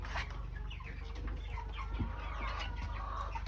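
Flock of chickens in a coop, quietly clucking and chirping while they feed, a steady busy murmur of short calls close by with faint background rustling.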